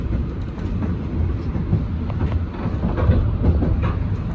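Interior of a moving Kawasaki M8 commuter train on the Harlem Line: a constant low rumble with rattling and clickety-clack from the rails, fairly loud and steady.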